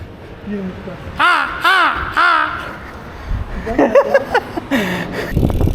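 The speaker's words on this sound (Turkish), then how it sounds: "Bak kuş sesleri bile harika." A crow caws three times in quick succession, loud and close outdoors, followed by people talking.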